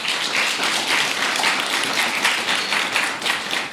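Audience applause at a Japanese speech contest in Kenya, greeting a questioner: a steady, dense patter of many hands clapping together, moderately close and continuous without a break.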